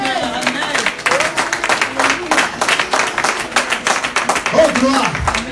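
Church congregation clapping and acclaiming the Lord during a French-language service, rhythmic applause mixed with voices and cries from the crowd, fairly loud and close.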